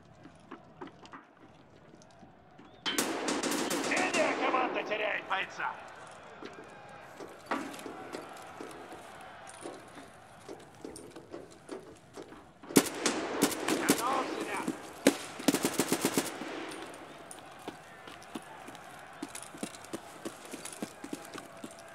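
Full-auto gunfire in the shooter game Escape from Tarkov Arena, heard as two dense bursts of rapid shots with scattered single cracks between them, moderately distant under a steady background.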